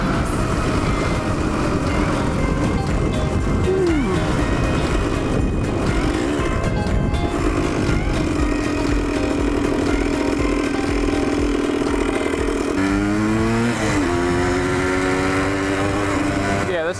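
A Yamaha motorcycle revs and accelerates on the road, its engine note climbing and shifting through gears amid steady wind roar at close range. A rider's voice is heard in places.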